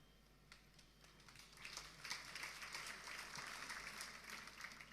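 Audience applause at a church seminar on divorce, a thin patter that swells into steady, moderately loud clapping from a crowd spread through the hall, with no talking over it.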